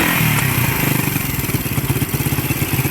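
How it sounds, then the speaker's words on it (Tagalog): A noisy motorcycle engine runs close and loud, its idle chugging in a fast, slightly uneven pulse with mechanical clatter and a harsh, rough tone, with no voices over it. "Maingay, makina talaga."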